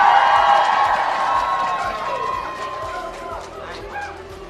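A stadium crowd at an international soccer match, Australia versus New Zealand, cheers and shouts in a dense roar with an amplified announcer's voice over it, slowly fading.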